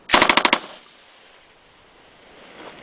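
A rapid burst of about six sharp gunshots at an outdoor shooting range, loud and close, followed by fading echo and quiet background.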